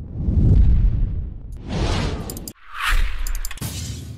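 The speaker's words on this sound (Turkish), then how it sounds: "Şurada bakın daha patlıyor." Explosion sound effects layered into an anime music video edit: a loud low boom swelling and fading, then two more bursts with whooshing, crackling tails, each cut off abruptly.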